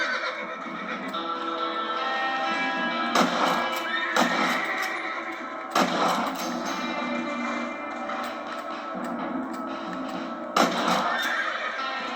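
A horse neighs repeatedly in Red Dead Redemption on PlayStation 3, loud whinnies rising over steady hoof clip-clops and outdoor game ambience, with no talking.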